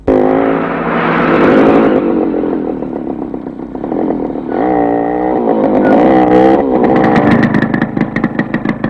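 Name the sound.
vehicle engine as it turns around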